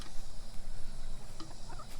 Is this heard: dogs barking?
no